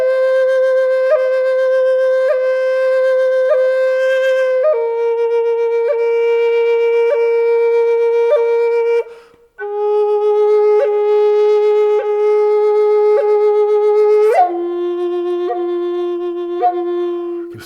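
Native American flute playing a rhythmic chirping melody, with pulsing breath accents every few beats and note changes as lower finger holes close, bright, close and unaccompanied.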